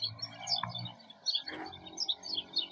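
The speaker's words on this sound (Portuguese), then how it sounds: "Olha os passarinhos" Small birds chirp and tweet in short, bright bursts scattered throughout, moderately close, with a soft low background hum beneath them.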